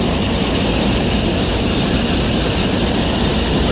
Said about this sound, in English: It's a Minneapolis Moline sheller here. See, it's run by the John Deere tractor over there with this big flat belt.